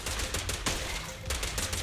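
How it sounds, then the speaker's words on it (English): Sustained rapid gunfire in the video game Zenless Zone Zero, loud dense automatic bursts with a few sharper shot peaks, continuous with no talking. "I love shooting indiscriminately."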